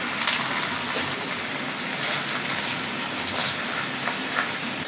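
Taro leaves boil in salted water in a pot, a steady, close bubbling and hissing wash that runs unbroken and fairly loud for the whole stretch, with no voices over it.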